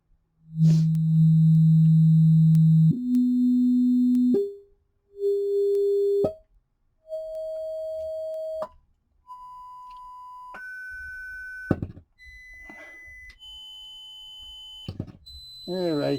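A pure test tone steps upward in pitch through a series of held notes, each lasting a second or two with brief gaps between. It is loud at the low steps and grows thinner and fainter as it climbs higher.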